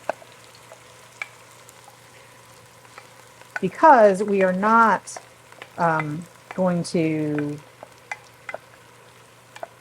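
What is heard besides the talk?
minced aromatics cooking in a pan, stirred constantly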